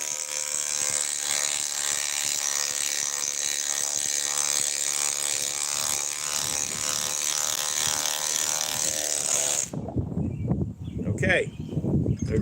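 A Milwaukee M12 Fuel cordless tool with a 5 amp XC battery drives into a previously drilled hole, a loud, steady mechanical whirring and ratcheting that cuts off abruptly near the end, followed by a voice and handling noise.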